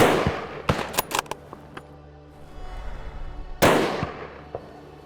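Gunshots ring out during a driven wild boar hunt in Hungarian woodland, a cluster of sharp reports early on followed by a louder, nearer shot with a long echoing decay.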